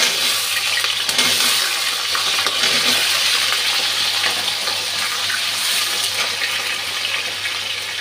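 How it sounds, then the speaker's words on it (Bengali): Potatoes seasoned with turmeric and salt fry in hot oil, giving a steady, loud, dense sizzle with crackling spatters that runs unbroken from start to finish. "এখন আলুটা ভাজতে দিয়ে দিচ্ছি।"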